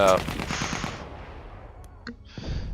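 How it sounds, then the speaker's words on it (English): A machine gun in the video game Battlefield 1 rattles off a rapid burst of shots up close, then fades into decaying echoes followed by a couple of scattered later bangs. "you can really just kind of race around with that machine gun going"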